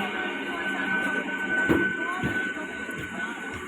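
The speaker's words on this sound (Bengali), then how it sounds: "ওটা কি ট্রেন ছিল থ্রু ট্রেন" A through train passes on a Bengal suburban line, a steady broadband rumble with a faint whine holding across the whole stretch and a brief clank near the middle, with a little background speech.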